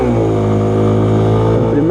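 A Honda Twister CBX 250 motorcycle pulls away hard from a standstill, its engine rising steadily in pitch through a short, loud burst of acceleration, with a voice talking over the engine.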